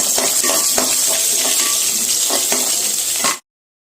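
Onions sauté in hot oil for an amaranth greens stir-fry, a steady, rushing sizzle with intermittent crackles that cuts off abruptly just before the end.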